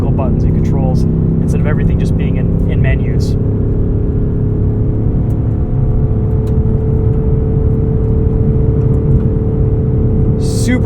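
A 2024 Ford Mustang Dark Horse with a Tremec six-speed manual holds a loud, steady high-rev engine drone near 7,000 RPM from inside the cabin, with someone talking briefly over it.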